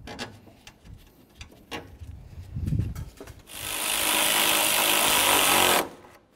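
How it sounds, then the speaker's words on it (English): Radiator bolts being snugged up on a 2002-08 Dodge Ram, first a series of clicks and ratcheting knocks, then a loud, steady whirring burst from a power tool for a couple of seconds before stopping. "We'll start in both of our bolts and then we'll snug them up."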